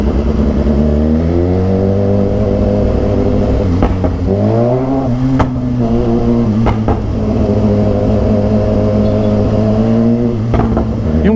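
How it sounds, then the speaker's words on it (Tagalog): A BMW S1000XR motorcycle engine idles loudly nearby and revs up sharply a couple of times, its pitch climbing and falling before settling back to a throbbing idle. "Ingay nito, grabe itong motor na to."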